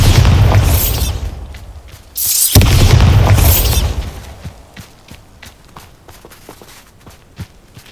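Confringo and Bombarda spell explosions in Hogwarts Legacy, two loud close booming blasts in quick succession, each rumbling off before scattered footsteps and small pops carry on more quietly.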